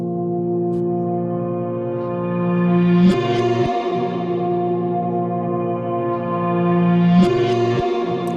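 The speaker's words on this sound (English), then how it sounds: "So let's just take this reverb and throw this here." A synthesized sound is played through a reverb effect: sustained, layered tones swell in two long phrases, each ending in a brighter accent and a lingering, washed-out tail. The sound is steady and fairly loud, with no voices.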